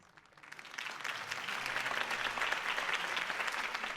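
Crowd applause swells up after a political campaign speech in the Batman Telltale Series video game, a steady wash of many hands clapping that builds quickly and holds, heard alone at moderate distance.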